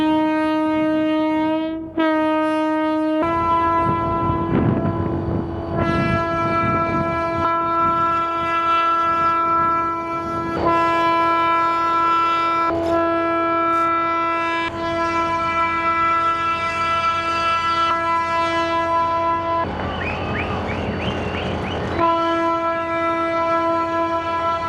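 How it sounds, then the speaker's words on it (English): A train arriving in the Andes sounds its horn in long, steady blasts with rumbling rail noise beneath, pausing briefly, then continuing with a wavering tone near the end. "a train has just arrived from Buenos Aires to San Antonio de los Cobres"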